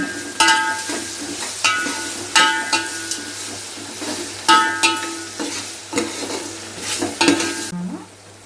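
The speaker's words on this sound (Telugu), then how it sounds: "కట్ చేసినట్టు 2 కరివేపాకు, ఇవి కొంచెం వేగడానికి." Curry leaves sizzle and fry in hot oil in a pan for an Andhra fish curry with drumsticks, with a steady crackling bed and repeated sharp scraping stirs of a spoon against the pan, no talking.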